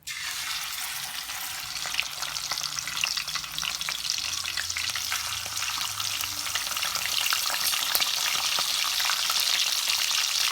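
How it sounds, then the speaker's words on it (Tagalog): Tilapia fries in a pan with a steady, dense sizzle that holds at an even, fairly loud level throughout, with faint occasional crackles and no talking. "Same pan, tilapia naman po ang aking pa-fry."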